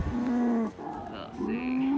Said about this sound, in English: The cows aren't happy, but Frank's coming with a bale to feed them